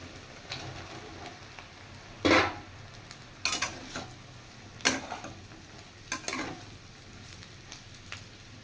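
Fried potatoes and soybean chunks are tipped into onions frying in a pan, bringing a soft sizzle punctuated by several distinct clattering bursts of food and utensil hitting the pan.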